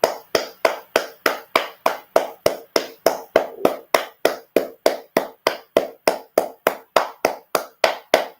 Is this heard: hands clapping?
yes